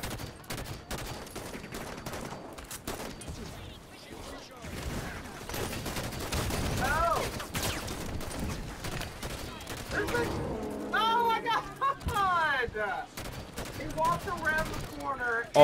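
Gunfire in a Halo firefight crackles in dense, overlapping bursts of rapid shots and sharp single blasts, with someone talking over the battle throughout.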